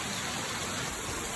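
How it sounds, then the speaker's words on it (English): Heavy rain pours steadily during a storm, a dense, even hiss with no breaks, fairly quiet and alone without voices. "It's raining really hard."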